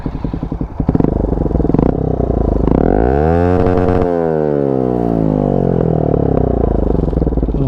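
A Bajaj Pulsar NS125 motorcycle fitted with an Akrapovic silencer revs hard up close, starting with a clattering idle, then the engine note sweeps up and falls back before settling into a loud, steady, throaty drone.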